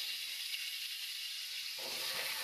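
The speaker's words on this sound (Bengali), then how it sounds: "গাইস ফুলকপি কিন্তু এখানে ভাজা হচ্ছে।" Steady bright hiss of cauliflower frying in oil, continuous and close, with a lower rumble of stirring or bubbling joining near the end.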